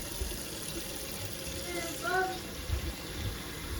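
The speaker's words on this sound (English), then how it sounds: "First, you fill up your pot with water." Tap water runs steadily into a cooking pot being filled for spaghetti, a continuous close rushing and splashing that lasts throughout at an even level.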